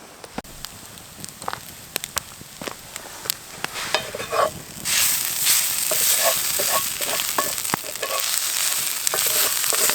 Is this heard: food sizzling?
yes